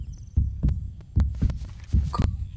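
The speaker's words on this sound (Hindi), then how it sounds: "दिल की धड़कन कितनी तेज हो गई है भाई" Fast heartbeat effect from the game Uncharted: Drake's Fortune, a run of heavy low thumps in quick pairs, loud and close, with no talking over it.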